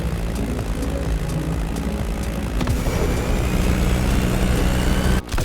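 Staggerwing biplane flying in The Crew Motorfest, a steady propeller engine drone with a low rumble that holds throughout, growing slightly louder midway before a brief dip near the end.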